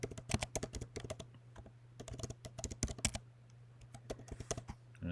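Rapid, irregular keystrokes from a computer keyboard come in quick bursts with short pauses, close and fairly quiet over a steady low hum.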